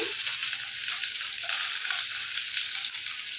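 A mango curry (jhol) set on the stove to cook gives a steady, soft sizzle and frying hiss that runs unbroken throughout, with no voices.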